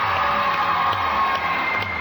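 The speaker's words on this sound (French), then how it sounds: "On applaudit Vesna." A French children's TV studio audience cheers and claps for a young contest winner on a 1992 video-game show. The crowd noise is loud, dense and continuous, and no voice stands out.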